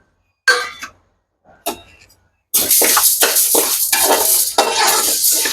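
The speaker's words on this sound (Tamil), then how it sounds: "துவரம்பருப்பு 1/4 கிலோ வறுக்கிறோம்" Toor dal dry-roasting in a pan for paruppu podi, with two brief scrapes and rattles followed by continuous loud stirring, the dry lentils rustling and scraping against the metal close up.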